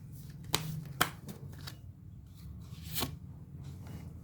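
Tarot cards being shuffled by hand during a reading, soft papery riffles and a few sharp snaps, quiet and close with no talk.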